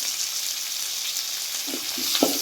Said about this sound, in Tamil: தக்காளியும் சேர்த்து நல்லா வந்து வதக்கி விட்டுருலாம்